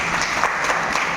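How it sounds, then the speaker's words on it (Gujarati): Children clapping their hands together in a classroom after a pupil answers, a brief dense patter of small-handed claps filling the moment, close and steady with no talk over it. "તાળી પાડો"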